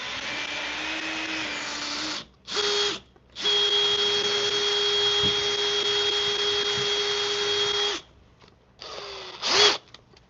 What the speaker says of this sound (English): Take our smaller bit, send it through a little further because we don't want this to split.